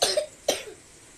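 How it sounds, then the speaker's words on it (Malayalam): Two sharp coughs come from a person with a lingering cough indoors at home, close and fairly soft, the second following about half a second after the first, then quiet. "ചുമയുണ്ട്"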